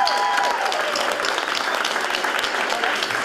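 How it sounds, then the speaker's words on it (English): Dense, steady applause from a crowd at a Rocky Top morning event, cheering on a group from Monroeville, fills the whole stretch with unbroken clapping at even strength. "Give them a big round of applause"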